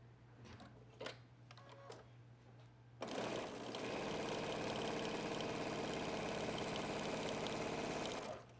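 A sewing machine stitches denim shorts, running in a loud, steady, continuous whir for several seconds after a few scattered handling clicks and knocks.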